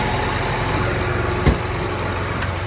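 A tractor engine runs at a steady, close idle, a continuous low rumble with a brief knock partway through and no talking.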